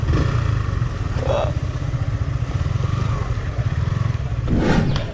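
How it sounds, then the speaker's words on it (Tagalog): Motorcycle engines, including a Yamaha MT15, rumble steadily through the whole stretch, one revving a bit louder near the end, while people talk faintly in the background at Mount Balungao, Pangasinan. "Mga motor"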